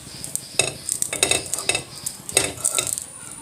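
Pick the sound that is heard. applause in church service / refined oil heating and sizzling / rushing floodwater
refined oil heating and sizzling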